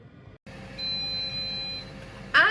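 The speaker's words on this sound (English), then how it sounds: "And we've beeped." A single sustained electronic beep from an air fryer timer, cooking chicken thighs and potatoes, lasts about a second over faint background noise, then a sharp clatter follows.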